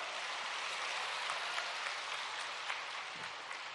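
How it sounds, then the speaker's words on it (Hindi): A large crowd at a Ladli Behna Mahasammelan political rally in Madhya Pradesh claps in a dense, sustained burst, a continuous hiss-like wash of many hands with occasional sharper claps standing out. "और इस पे तो जोर से ताली बजाओ ना।"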